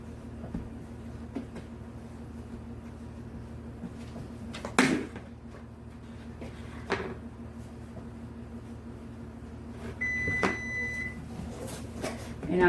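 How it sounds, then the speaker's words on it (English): An oven preheating to 400 degrees gives a single steady electronic beep lasting about a second, faint and alone over a low room hum, with a few soft kitchen knocks earlier. "And I'm preheating my oven to 400. That was telling me it was ready."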